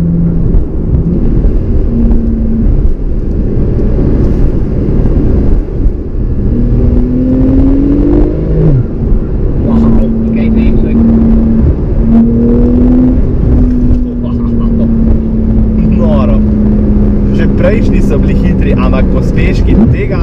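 Porsche engine pulling through steady acceleration, a continuous loud drone with gear-change tone steps and rising whine, under a constant rushing cabin roar.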